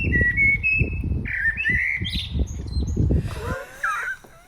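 A blackbird in Essex sings a clear, whistled phrase that echoes the tune of a song, with a bright melodic line over a low rumbling background that drops away near the end.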